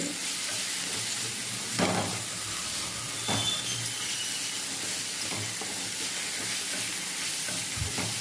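Okra sautéing in a pan with a steady broadband sizzle, stirred now and then with soft scraping strokes at a few points, close and moderately loud with no voices.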